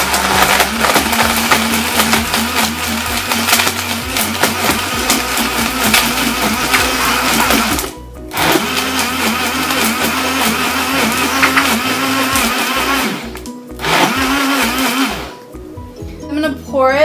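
A blender runs continuously at high speed blending a banana strawberry smoothie, with a dense, grinding whir, pausing briefly twice before revving again, loud and close.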